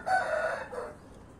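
A young rooster crows once nearby on a farm, a single drawn-out call that rises and then trails off into quiet.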